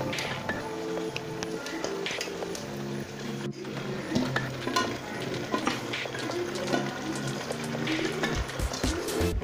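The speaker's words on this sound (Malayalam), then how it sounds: "ഇനി നമുക്ക് ഇത് നന്നായിട്ടൊന്ന് ഇളക്കി കൊടുക്കാം" Chicken biryani gravy with fried chicken pieces being stirred in a pot: soft, wet squelching and scraping strokes repeat continuously at a fairly low level, with no speech.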